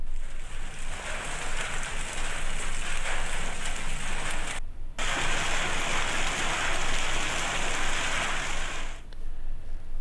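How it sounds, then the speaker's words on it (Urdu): Torrential rain mixed with hail pours down steadily across Lahore, a dense, continuous hiss of water that holds loud and even for the whole stretch, broken only by a brief gap, with no speech. "لاہور میں مختلف مقامات پر بارش کے ساتھ یالہ باری بھی ہو رہی ہے"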